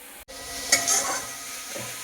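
Oil sizzles in a frying pan while a spoon stirs, a close steady hiss marked by a brief scraping stir and a soft clink near the end. No talking.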